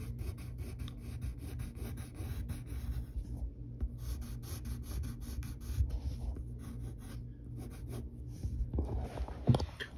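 A pencil draws on paper in continuous close scratching and rubbing strokes, varying in pace and pressure, with a few louder scrapes toward the end and no voices.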